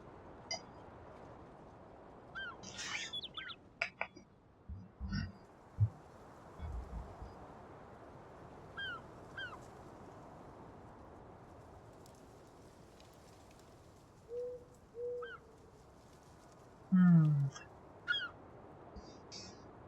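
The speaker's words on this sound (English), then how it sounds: "And listen to the seagulls." Seagulls cry at a harbor in the video game Farming Simulator 19, with a few scattered calls spread over a quiet ambient background and no talking.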